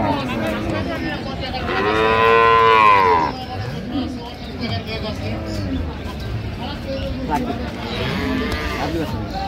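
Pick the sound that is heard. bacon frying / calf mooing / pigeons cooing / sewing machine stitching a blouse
calf mooing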